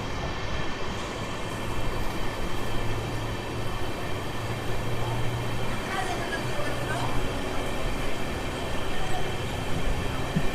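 Sapthagiri Express with LHB coaches running on the Chennai–Tirupati line, a steady, loud, continuous rumble and rail roar heard from on board, with no voices.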